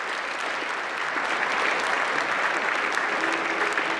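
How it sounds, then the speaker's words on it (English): A large audience gives sustained, loud applause for award winners at the 2026 White House Correspondents' Dinner, with a dense, even roar of clapping that holds steady throughout. "Let's hear it one more time for this year's winners."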